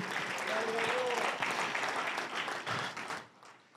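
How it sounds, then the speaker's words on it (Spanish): Church congregation applauding during a Spanish-language sermon, a steady dense wash of clapping that fades out near the end, with music and voices faintly underneath. "dele un aplauso al Señor"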